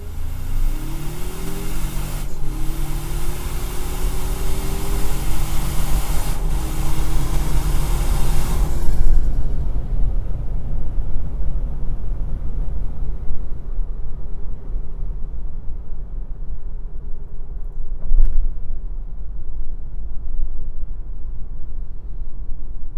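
A 2025 Toyota 4Runner Trailhunter 4WD with an 8-speed automatic pulling away from a stop, heard from inside the cabin with a window cracked: engine revs climb through rising gear sweeps over steady road and wind roar.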